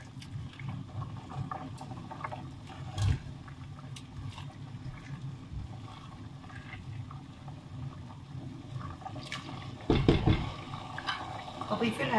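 Water pours into a pot of rice being cooked for a Basra-style mutabbaq zubaidi, a soft continuous trickle and slosh with occasional clinks of the pot and a louder splash near the end.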